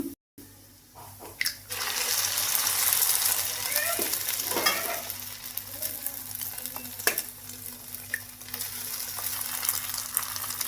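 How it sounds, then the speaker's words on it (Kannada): Eggs fry in a pan with drumstick leaves over a medium gas flame, giving a continuous close sizzle broken by occasional scraping and stirring sounds. "ಇದಕ್ಕೆ ನಾವು ಇವಾಗ ಮೊಟ್ಟೆ ಹಾಕೋತಾ ಇದ್ದೀನಿ"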